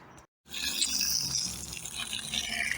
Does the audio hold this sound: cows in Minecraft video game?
no